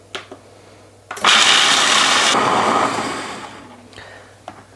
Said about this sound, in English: So I let the food processor go for a minute and a half